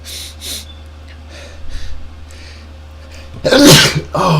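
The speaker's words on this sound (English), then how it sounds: "I'm gonna sneeze." A loud, explosive sneeze bursts out near the end, preceded by a few quiet breaths and sniffs.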